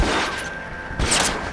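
Film gunfire at long range, a dense fusillade of rapid shots blending into a continuous crackling roar, with a sharper burst near the end.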